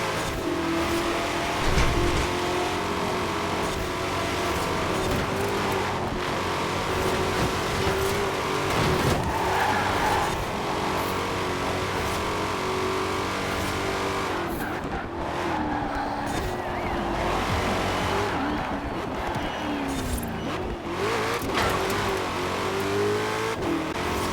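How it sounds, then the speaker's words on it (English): A 2020 Shelby GT500 in the racing game Forza Horizon 4 roars steadily throughout, with a loud, continuous engine note that rises and falls as it revs and accelerates, with hints of tire skids. "I think ours engine sound might actually be slightly tweaked"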